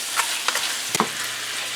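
Stewed pork gets a quick mix in a pot over steady sizzling, with a few sharp scrapes and knocks of a spoon against the pot standing out above the frying hiss, close and without talk.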